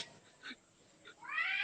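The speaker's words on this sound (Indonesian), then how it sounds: "Bukan berantem itu kucing kawin tuh kalau suaranya gitu." Cats yowling while mating: short nasal cries followed by a rising, drawn-out caterwaul, fairly faint and alone.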